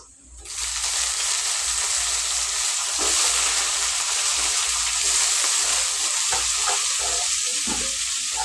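Chopped tomatoes hit frying onions in a pan, setting off a loud, steady sizzle with bubbling and occasional stirring clicks, close and continuous with no voices.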